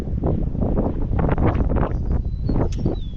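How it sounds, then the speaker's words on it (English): Steady wind buffeting the microphone outdoors in a garden with beehives, a continuous broadband rush with gusty surges and no speech. "It's a windy day,"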